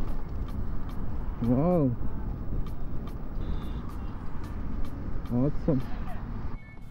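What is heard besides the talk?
Techo Electra Emerge electric scooter riding in mode 3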